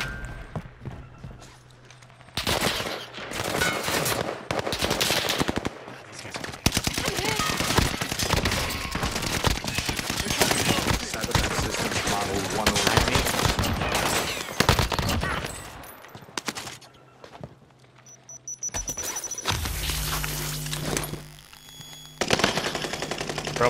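Rapid bursts of automatic gunfire and scattered shots in a Fortnite match, loud and close, firing in repeated volleys with brief pauses, with footstep sounds mixed in and a player talking over the action.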